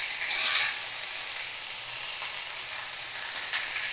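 Kalmi greens tossed into a hot wok give a loud, steady hiss of sizzling that holds for the whole stretch, with a brief flare of crackle near the start.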